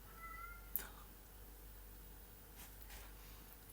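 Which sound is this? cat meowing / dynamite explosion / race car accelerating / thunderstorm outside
cat meowing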